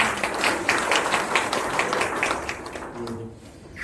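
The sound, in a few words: audience applause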